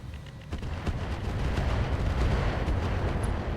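A Catapult mech fires explosive salvos in the RogueTech BattleTech game, a low rumbling barrage of distant booms and thuds that swells and holds steady.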